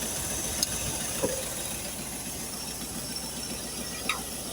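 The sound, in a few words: carburetor engine idling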